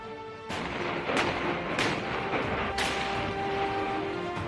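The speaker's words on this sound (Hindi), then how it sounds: "बोफोर्स तोपों को स्वीडन से खरीदा गया था।" Bofors artillery guns fire in a sequence of four heavy booms, each long reverberating blast rolling into the next across open terrain, loud and unaccompanied by speech.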